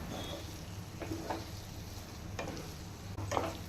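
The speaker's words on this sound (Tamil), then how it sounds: "நம்ம நல்லா வதக்கினாதான் கேரட்டோட பச்சை வாசனை போகும்." Grated carrots for carrot halwa sautéing in a pan, a steady close sizzle with soft scraping strokes of a spoon stirring through, no voices.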